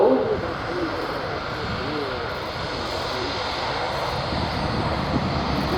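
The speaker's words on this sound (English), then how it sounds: "here's the A400M on the roll" An Airbus A400M military transport aircraft rolls for takeoff at an airshow, giving a steady, loud engine roar that holds throughout. Faint talk sits under the noise.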